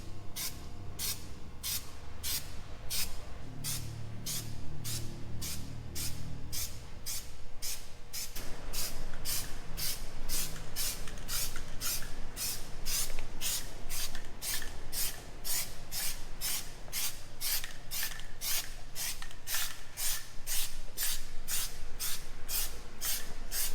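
Worth gravel guard coating sprays from an aerosol can onto a Jeep TJ's panels in a long run of short, evenly spaced hissing bursts, close and steady, with a low background hum and no speech.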